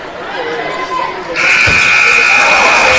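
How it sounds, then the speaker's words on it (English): A loud, sustained electronic buzzer sounds at a high school girls basketball game as the first half ends. It cuts in abruptly and holds steady, over the crowd noise and an announcer talking in the gym. "Shot at the buzzer, no good by Hewitt"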